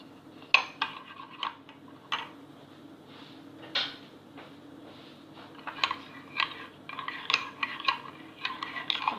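A spoon stirs mug cake batter with butter in a mug, clinking sharply and irregularly against the sides, close and fairly quiet, with soft scraping between the taps.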